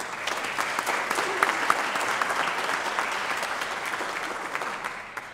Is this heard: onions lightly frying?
no